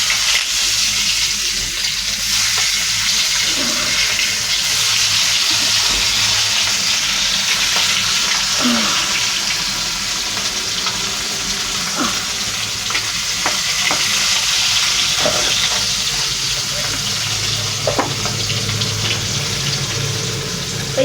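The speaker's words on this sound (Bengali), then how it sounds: "এই কড়াই দিয়ে দিচ্ছি মাছ" Fish frying in a kadai wok, a steady loud sizzle and crackle of oil running throughout with occasional stirring scrapes and clinks, no voices.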